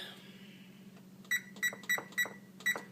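A kitchen timer on a stovetop gives five short electronic beeps in an uneven rhythm as it is set, close and clear over a steady low hum.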